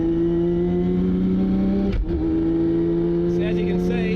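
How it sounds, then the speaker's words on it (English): A 1000+ horsepower Nissan R32 GT-R with a sequential gearbox pulls under load with a steady droning engine tone, then a sharp clutchless upshift cuts through midway before the drone resumes, heard from inside the car. "I can still clutchless shift, even at part throttle, just a tiny lift of the accelerator just to unload the gearbox slightly."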